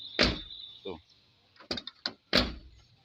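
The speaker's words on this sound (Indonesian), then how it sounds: "Nggak perlu dibanting. Pintu kalau sehat seperti ini." An Isuzu Panther car door, recently adjusted after a faulty door lock, shuts firmly without slamming, giving several sharp close thuds and latch clicks in quick succession.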